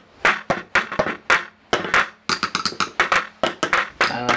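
Homemade drum kit built from PVC pipe with balloons glued over the ends, some fitted with springs as a snare, played in an uneven beat of sharp, close hits with short gaps between them.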